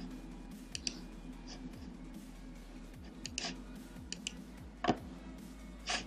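A computer mouse clicks in the Unity 3D editor. Faint, sharp clicks come irregularly, singly and in quick pairs, over a quiet low hum with no talking.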